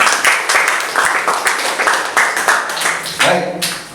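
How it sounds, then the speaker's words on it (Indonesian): Applause from a university class, a series of distinct claps in an uneven rhythm, close and fairly loud, ending with a brief voice at the close. "Tepuk tangan buat teman-teman semuanya."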